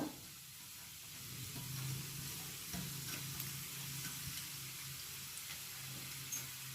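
Chopped garlic and ginger fry in a little oil for Gopi Manchurian, a soft steady sizzle with faint stirring scrapes, quiet and close with no talk.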